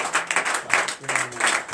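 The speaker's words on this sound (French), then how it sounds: "Donnez l'acclamation à l'Éternel" A congregation applauds during a morning prayer service, producing a short, steady wash of clapping from many hands at close range with no pause.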